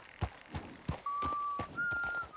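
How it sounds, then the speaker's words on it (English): Arthur whistles a sustained tune in Red Dead Redemption 2: two long, steady held notes, with horse hooves clip-clopping at a walk underneath. "Arthur's whistling."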